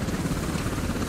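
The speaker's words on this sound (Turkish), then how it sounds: "Bu helikopter kalkacak ya." Steady rotor drone of a helicopter in the video game Main Battle Tank, loud and continuous with a low thumping texture, with faint voices underneath.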